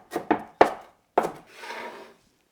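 A knife chops cilantro finely on a board, four sharp separate knocks with uneven gaps, then a softer, longer scraping rub as the blade runs through the herbs; close and clear with no talk.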